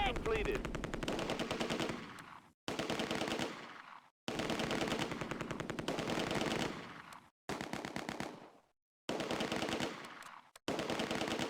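Bursts of machine-gun fire rattle in the World War II game Close Combat A Bridge Too Far, rapid repeated volleys broken by short silences, loud and harsh.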